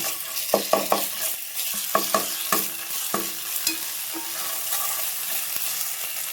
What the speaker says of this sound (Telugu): అల్లం వెల్లిగడ్డ వేసి కూడా మంచిగా కలుపుకోండి